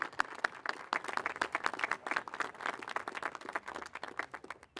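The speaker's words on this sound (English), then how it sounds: "let's give them a round of applause" Audience at a city swearing-in ceremony for mayor, council and school board members applauding, steady scattered clapping from a room of people, moderately distant and fading slightly toward the end.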